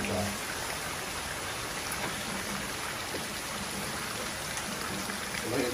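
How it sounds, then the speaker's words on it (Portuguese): Steady rain pours down outside a kitchen window, a dense even hiss of falling water with faint patters, unbroken for several seconds. "Mas olha a zoada da chuva."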